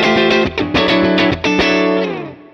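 A PRS electric guitar on a clean amp sound plays a short run of bright picked chords and notes that ends on a sustained chord fading out, close and alone.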